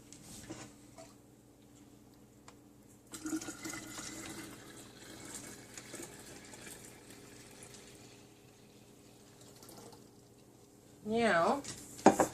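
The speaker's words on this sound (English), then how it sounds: "Get it down low enough so I could pour it without making a mess." Liquid poured into a jar while brewing homemade organic kombucha, a brief splashing gush near the end after quieter handling and faint background sounds.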